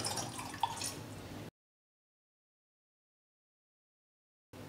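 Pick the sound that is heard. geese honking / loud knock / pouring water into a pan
pouring water into a pan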